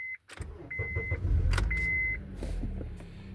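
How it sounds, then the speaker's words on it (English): A Honda car engine cranks and catches during a crank sensor relearn, settling into a low idle rumble, with a couple of short electronic beeps before and during the start. "Start engine."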